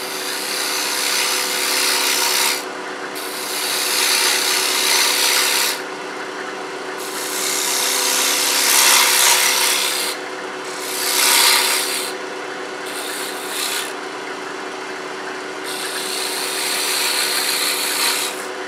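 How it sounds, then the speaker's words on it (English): A wood lathe turning tool cuts a cove into a wooden napkin ring, making loud, continuous rasping and scraping in long passes broken by short pauses, over a steady motor hum. "I'm going to make a cove in the middle."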